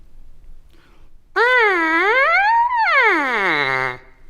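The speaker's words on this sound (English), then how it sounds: "you play the trumpet by buzzing your lips into it." A buzzing, brassy tone swoops up and down in pitch like a wavering siren, loud and alone for about three seconds.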